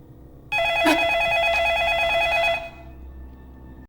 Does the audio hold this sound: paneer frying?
no